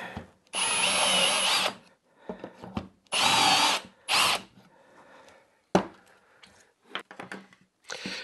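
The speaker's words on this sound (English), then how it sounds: "Now I just drilled the inside holes" Power drill boring holes into a wooden shelf, with several loud whirring bursts of a second or so each, separated by quieter handling clatter and small knocks.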